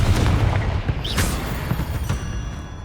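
A Confringo blasting spell bursts in the Hogwarts Legacy video game, a loud booming impact with sharp cracking transients over a dense, sustained rumble of game combat sound.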